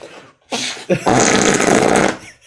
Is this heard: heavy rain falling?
no